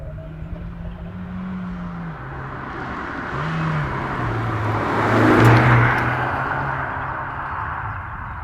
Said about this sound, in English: there is one area of this car that does disappoint me a little bit, and that is the sound you get when you're outside